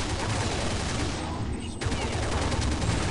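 A P90 Turtle Rabbit gun fires in a video game as a dense, loud stream of rapid shots, broken by a brief dip before the firing resumes.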